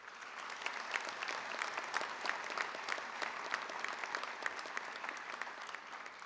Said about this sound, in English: Let us give them another great round of applause.